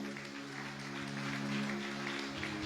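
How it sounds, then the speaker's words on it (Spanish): A church congregation claps for the King of Glory during a Spanish-language sermon, a moderate, even patter of many hands over a sustained musical drone of held keyboard or organ tones. "Dele palmas al Rey de Gloria"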